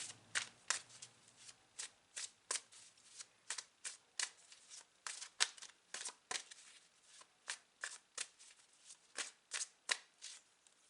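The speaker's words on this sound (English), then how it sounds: "So let me just get a final card" Tarot cards shuffled by hand in quick, even bursts of crisp riffling and slapping, close and fairly quiet, repeating steadily for several seconds with no talking.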